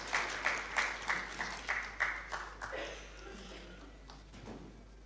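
Audience applause at a conference on improvised mines, welcoming an ambassador of the international campaign to ban landmines; rhythmic clapping with distinct claps early, thinning out and fading toward the end.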